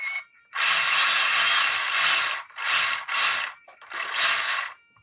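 A noisy Savox servo on a 1/16 E-Revo RC car whirs in three loud, grinding mechanical bursts, close up and alone, separated by short pauses.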